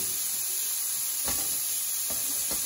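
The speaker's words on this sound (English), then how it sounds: "Always love that sizzle." Ground beef searing in a Ninja NeverStick pan gives off a steady, loud sizzle with broadband hiss throughout, broken by a few brief louder crackles or stirring scrapes near the end.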